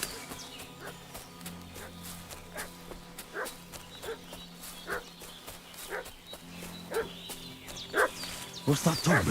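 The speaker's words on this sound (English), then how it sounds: "What's that dog making such a fuss about?" A dog barks in the medieval video game Kingdom Come: Deliverance, sending scattered yips and barks over game ambience, with the final barks louder and nearer.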